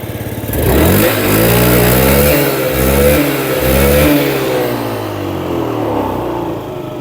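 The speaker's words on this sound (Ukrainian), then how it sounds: "Двигун працює без жодних нарікань." A small Yamaha Jog 39ZR motor scooter engine revs up loudly, dips and surges again in a few bursts, then settles into a steadier idle.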